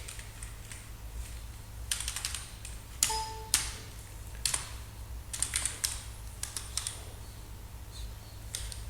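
Keys tapped on a computer keyboard while entering a product name in commercial management software, irregular bursts of close clicky keystrokes with short pauses between.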